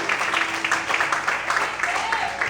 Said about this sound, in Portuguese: Aplauda e exalte a Deus.